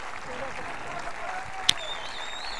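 Spectators at the Vicenza Challenger tennis final in Italy applaud the finalists, a steady wash of clapping from a crowd with one sharp louder clap standing out, sustained throughout.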